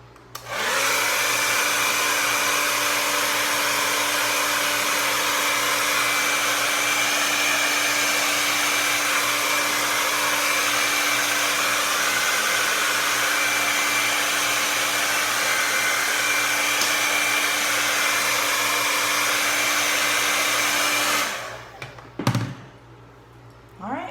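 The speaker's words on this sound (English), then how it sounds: "whenever I blow dry the dry shampoo, it just makes it stick more" A hair dryer blows dry shampoo into hair, a steady loud whoosh running for about twenty seconds before cutting off, followed by a few handling clicks.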